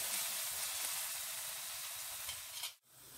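Ground spices, red chilli powder, garam masala and dried fenugreek leaves, fry in oil in a pan, giving a constant close sizzle with a short break near the end and no talking.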